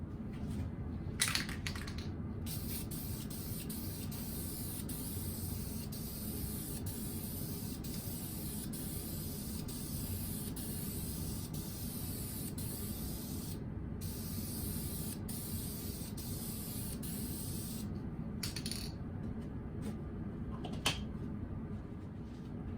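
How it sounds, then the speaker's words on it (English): Steady, continuous aerosol hiss of a spray can spraying white wash glaze onto a wood project, running nearly unbroken with a few short pauses and bursts, close and fairly loud. "We're using the spray can today for the purposes of showing you this in a quick manner."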